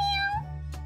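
A purebred kitten gives a short, clear meow, close and fairly loud, with a brief second call trailing after it over a steady low background hum.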